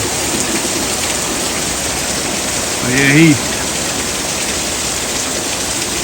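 Steady broadband hiss of rain falling, constant throughout, with a brief spoken phrase partway through.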